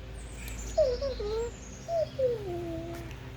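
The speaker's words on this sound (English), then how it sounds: "Can you guys hear the birds singing now?" Birds singing outdoors, a few short whistled phrases rising and falling, fairly faint over a quiet background hiss.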